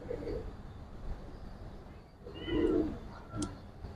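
Pigeons coo at a loft, with one soft rolling coo rising clearly above low background murmur and rustling.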